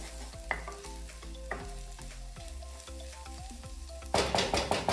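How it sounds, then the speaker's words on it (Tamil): Onion masala with salt, chili powder and garam masala sautéed and stirred in a pan over a low flame for potato bonda filling, with steady soft sizzling, repeated spoon scrapes and clinks, and a louder burst of sizzle near the end. "தேவையான அளவு உப்பும் சேர்த்து லோ ஃப்ளேம்ல வச்சு மசாலாவோட பச்சை வாசனை போற வரைக்கும் நல்லா வதக்கி விட்டுக்கோங்க"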